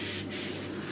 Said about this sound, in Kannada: ಟಿಶ್ಯೂಯಿಂದ ರಬ್ ಮಾಡಿ ನೋಡಿ